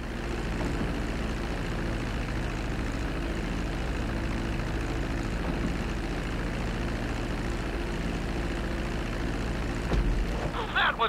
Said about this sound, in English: Now let's get the plane off the runway.